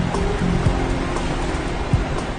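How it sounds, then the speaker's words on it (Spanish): Water of the Neuse River at New Bern, North Carolina, rushes and laps in a steady broadband wash. A faint low hum runs underneath, and a few soft splashes stand out. "Este es el río Neuse, en New Bern, Carolina del Norte"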